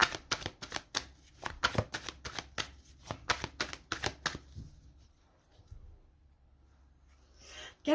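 Tarot cards riffle through a rapid, rhythmic shuffle, close and crisp, then go quiet with a few soft slides as cards are laid out.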